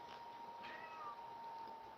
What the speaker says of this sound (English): And you can hear my cat meow.